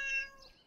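A single short meow from a cat in a spooky cat video game, clear and close, fading quickly with no talking.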